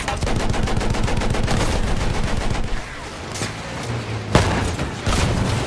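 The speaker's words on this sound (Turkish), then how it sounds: "Sen kime sıkıyorsun lan?" Gunfire in Battlefield 1 comes as a loud, rapid machine-gun rattle in quick, regular bursts. It pauses briefly, then sharp single shots and another burst of automatic fire follow.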